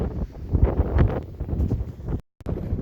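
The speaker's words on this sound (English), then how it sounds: "Well, it's still super windy" Strong wind gusting across an exposed mountain saddle near Loveland Pass in the Colorado winter, buffeting the microphone in loud, rough roars, then a brief dropout before the gusts return.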